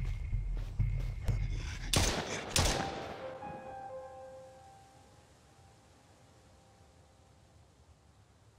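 Gunshots in the Mist Survival video game: a handful of sharp, loud shots fired in quick succession, then a heavier burst, followed by ringing tones that fade into quiet background hiss.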